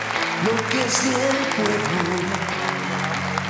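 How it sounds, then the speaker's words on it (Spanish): A large crowd at the inauguration ceremony of a Latin American progressive gathering applauds the vice president of Ecuador, steady clapping under a voice speaking over a loudspeaker. "Fuerte aplauso."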